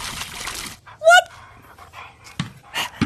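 A dog pants in the VR game I Am Cat in short breathy bursts, with a brief whine and scattered game sounds around it.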